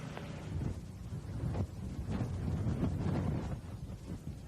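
Strong wind gusts, estimated at 60 to 70 miles per hour, buffet a live news truck in the foothills: a deep, roaring rumble of rushing air that surges and swells in repeated pulses, loud and close against the microphone.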